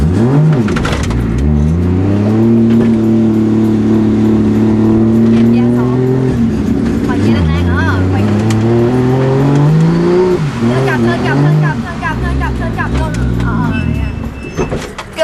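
A car engine drones under steady load while driving, pitch rising and falling through gear changes and acceleration, loud and close from inside the vehicle, with occasional voices over it.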